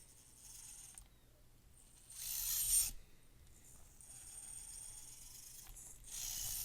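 A Komodo motor runs inside an SCX24 RC crawler on a Warthog LCG chassis. It gives a faint, quiet whir with a few louder bursts of high hiss.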